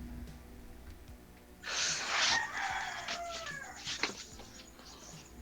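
A rooster crows once, loud and close, with a long drawn-out call over a quieter background of other fowl.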